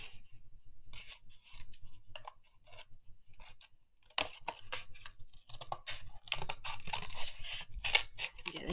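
Scissors snip through painted cardboard in a run of close, dry, crisp cuts and scratchy rustles, sparse at first and then denser and louder, with no talking.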